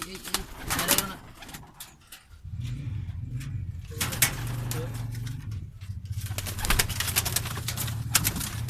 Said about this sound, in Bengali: এটা হচ্ছে কবুতরের বাচ্চা,